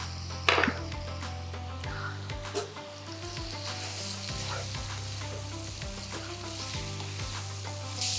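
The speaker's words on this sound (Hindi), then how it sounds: "थोड़ी वेजिटेबल्स खे फ्राई करे" Vegetables fry in a pan with a constant hiss, under scattered clinks and taps of a utensil against the pan and a few louder scrapes of stirring. No one speaks.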